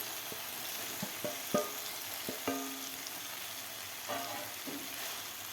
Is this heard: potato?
yes